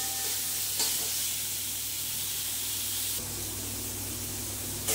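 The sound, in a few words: sautéing raw mango in a pan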